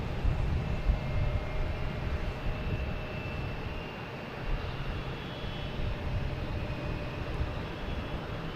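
A Hawker Beechcraft jet passes at Boston Logan Airport, its engine roar steady and moderately loud with a low rumble, no voices over it.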